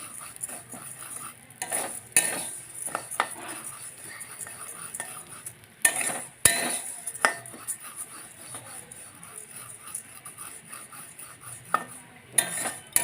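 Something browning lightly in a frying pan, a low sizzle broken by sharp bursts of spatula scraping and metal clinks, with recurring stirring across the whole stretch.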